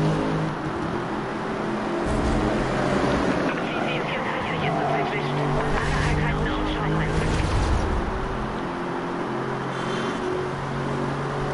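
Car driving in Need for Speed Rivals, a continuous engine drone with rising revs and road rumble throughout, while a voice talks over it.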